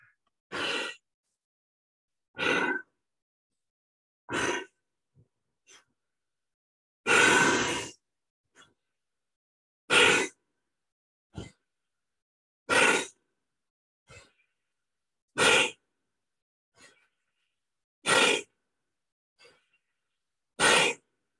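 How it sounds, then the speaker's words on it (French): Breathe Way Better breathing trainer in use, with a dozen sharp, forceful breaths spaced about every one to two seconds between short silences, close and clear with no talk. "je vais commencer à faire mes respirations"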